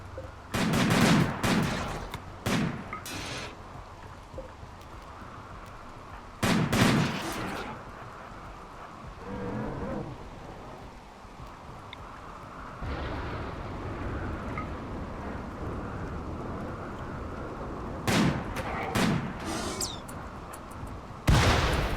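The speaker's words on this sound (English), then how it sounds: "Who are you shooting at," Gunfire in the colony-building video game RimWorld, a battle against mechanoids: bursts of rapid shots cluster at the start, around seven seconds and near the end, with a steady background hum of game ambience in between.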